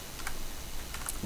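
Brief soft keystrokes on a computer keyboard while code is typed, a few quiet taps close by.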